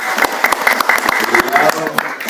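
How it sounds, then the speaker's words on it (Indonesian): An audience at a school anti-brawling outreach event claps in quick, sharp, overlapping strikes, fairly close and loud, with voices heard among the applause. "Tepuk tangan untuk beliau."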